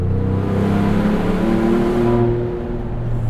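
A 2.7L V6 Ford Bronco with an MRT axle-back exhaust accelerates under a bridge, heard from inside the cabin as a loud, steady engine drone that rises in pitch and then eases off, with no talking.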